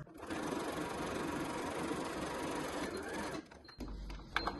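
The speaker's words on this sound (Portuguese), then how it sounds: "E a costurinha bem na beiradinha, só pra prender mesmo" A sewing machine runs a steady, continuous stitch along the edge of a small printed tricoline cotton wallet, whirring close and even for a few seconds before stopping, followed by a few light clicks.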